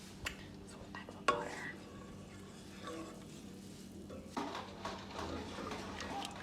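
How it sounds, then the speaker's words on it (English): Milk, cheese and butter stirred in a pot on low heat, soft scraping and a gentle sizzle with an occasional clink of a utensil against the pot, quiet and close. "So we're just stirring on low heat to allow it to melt."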